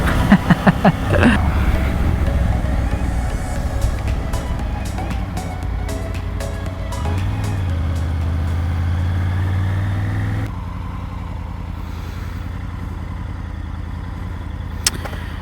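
A Triumph Tiger 850 Sport motorcycle rumbles along on a Sunday ride, steady engine drone with wind noise and clicks, dropping to a quieter hum partway through.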